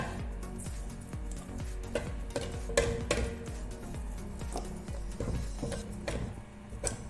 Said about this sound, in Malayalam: ഇത് കുറച്ച് കുറച്ച് ഇട്ടിട്ട് മിക്സ് മിക്സ് ആക്കുക